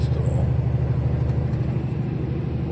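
A lorry engine straining up a steep hill on an English road, a heavy low droning rumble that is steady and close, with a voice talking over it.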